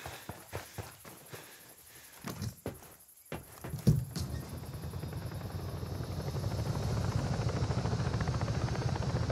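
A helicopter in the Ghost Recon Breakpoint video game approaches, its rotor chop building from faint to a steady, louder thrum after a few scattered footsteps and taps near the start.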